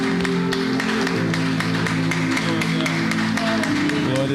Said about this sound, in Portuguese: Aplaude o Senhor, amado.